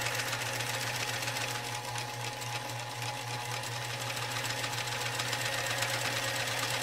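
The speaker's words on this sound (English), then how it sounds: "I'm just going to set up the sewing machine so I can whip a couple of these out" A sewing machine runs steadily throughout, a continuous close mechanical whir with a rapid even stitching rhythm and a constant low hum, no voices.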